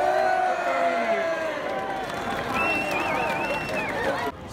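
Crowd cheering and hubbub at Ashbourne's Royal Shrovetide football, a continuous roar of many voices outdoors with whistles and shouts rising through it before cutting off near the end.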